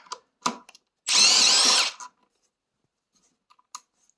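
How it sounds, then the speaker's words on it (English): An electric impact wrench removes the factory brake lever from a Suzuki DR650 motorcycle in one loud, brief burst of under a second, with a few small clicks and taps of handling before and after. "I like to use a wrench or impact, just electric, of course"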